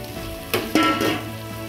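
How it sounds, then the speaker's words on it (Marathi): Chopped vegetables and tomato sizzle in a hot pan for veg biryani, a steady close frying hiss with a few sharper crackles and stirring knocks part way through. "आणि ह्याच्यातच आपण मगाशी 1 टोमॅटो चिरलेला तो घालूया। टोमॅटो चांगला शिजल्यावर ह्या सर्व भाज्या आपण घालूया"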